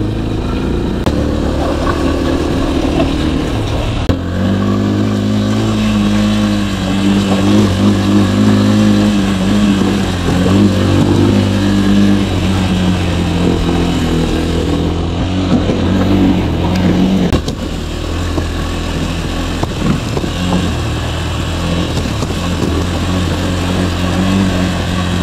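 A motorcycle rides along an unpaved dirt road, its mid-pitched engine droning loudly and steadily throughout with slight shifts in revs and a constant rumble underneath.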